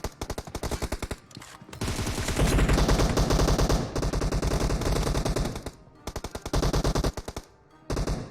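Rapid bursts of M4 rifle fire in a first-person team deathmatch shooter game, loud and dense, with dry staccato volleys broken by brief pauses and a short gap near the end.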